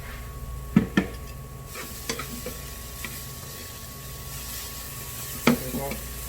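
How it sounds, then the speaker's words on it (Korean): Ingredients sizzle steadily while being stir-fried with a pinch of salt in a pan for mustard-leaf kimchi gujeolpan, with a few sharp utensil clicks and scrapes against the pan breaking through the soft frying hiss. "이 볶는 이유는 향도 좋지만 이 물기나 소금 같은 거 날릴 수 있게 한번 딱 볶아주시는 게"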